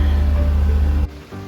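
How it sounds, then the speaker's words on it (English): Rain falls at an outdoor garage construction site, a loud, steady, dense wash of noise that suddenly drops away to quieter patter near the end. "Well, she's raining."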